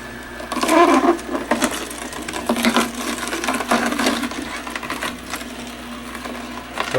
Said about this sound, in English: With the slow juicer, it's pretty quiet, and even though it's turning slow, a plate of vegetables like this is juiced pretty quickly